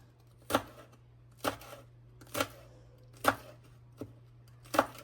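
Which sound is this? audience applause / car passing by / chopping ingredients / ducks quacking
chopping ingredients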